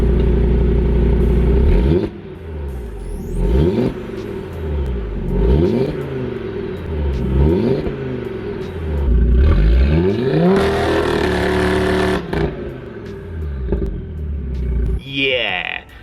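An Audi RS3 8P with a Milltek exhaust and switchable back box revs hard again and again, each loud rising blip dropping back to a deep burbling idle, close to the car.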